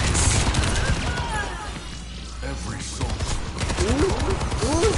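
Rapid gunfire in a video game, with repeated shots crackling over busy game sound effects and excited voices talking throughout.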